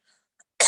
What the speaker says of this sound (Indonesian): Saya masih batuk seperti biasa